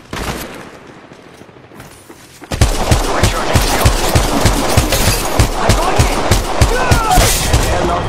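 After a quieter opening, loud rapid automatic gunfire erupts in Apex Legends Mobile, a steady stream of close shots with a few heavier booms continuing to the end.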